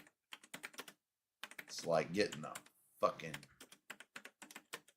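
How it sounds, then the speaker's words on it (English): A computer keyboard is typed on in quick bursts of crisp, close clicks, with someone talking loudly over part of it. "Tapping on them keyboards."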